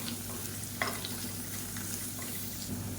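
Onion and rasam powder sautéing in a pan for a green mango rasam, a steady soft sizzle with faint stirring scrapes, close and even throughout, no talking.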